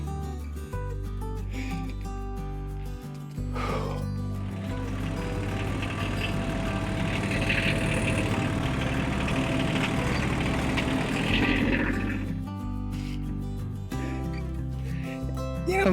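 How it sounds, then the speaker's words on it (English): A Weed Eater string trimmer engine runs steadily nearby for the whole stretch, a continuous droning whine that swells slightly in the middle and stays loud throughout, with no talk over it. "listening to this guy over here with Weed Eater"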